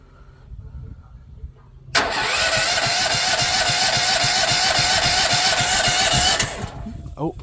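A Duramax XP1300HX generator engine cranks and catches after a quiet start, settling into a loud, steady mechanical run for about four seconds before cutting out; faint background noise before and after.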